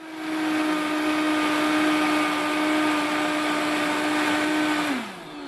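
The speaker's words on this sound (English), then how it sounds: "I'm going to add the rest of my mangoes and my apples to the mix, and I'm going to give it another blend." A blender whirring through mangoes and apples, with a loud, steady high-pitched motor drone lasting several seconds before it winds down, close and alone.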